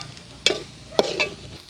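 A Kerala-style duck roast pepper masala is stirred in a pan with three distinct scraping strokes over a soft background sizzle, close and clear.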